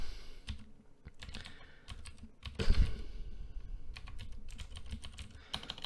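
Quick bursts of keystrokes clatter on a computer keyboard, close and fairly quiet, coming in uneven clusters with brief pauses and one heavier thump midway.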